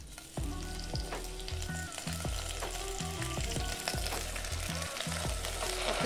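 Gongura sorrel leaves dropped into hot oil in a pot, a loud, dense, continuous sizzle with repeated scraping stir strokes, close and with no talk.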